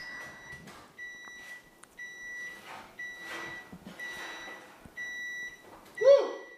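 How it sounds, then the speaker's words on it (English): An oven beeps in a steady series of short, evenly spaced electronic tones, fairly clear against a quiet kitchen. "As you can hear, the oven's beeping."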